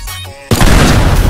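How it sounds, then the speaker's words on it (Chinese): TNT blows apart the walls of a house in a bootleg Minecraft-style game with realistic physics. A quieter tonal lead-in gives way to a sudden, very loud roaring blast that stays dense and sustained to the end. "他墙壁整个爆炸"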